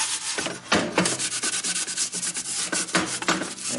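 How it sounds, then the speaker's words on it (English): A scouring pad scrubs a metal part of a model Redcoat musket in steady, close, rasping back-and-forth strokes, the rough abrasive rubbing continuous with a few louder pushes and no talking. "Just got a scouring pad here. And just direct your scouring wherever you need it."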